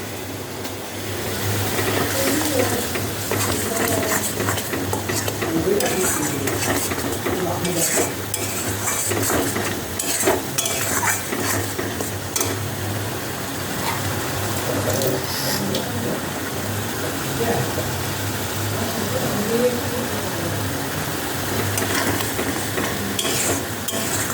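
Chillies sizzle and fry with meat in a pan while being stirred, a steady close crackle running throughout with scraping and clinks of a utensil against the pan.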